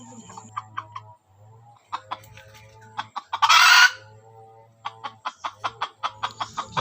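A rooster crows loudly nearby, surrounded by rapid clucking and cackling calls from fowl in a training yard, the calls coming in quick repeated bursts.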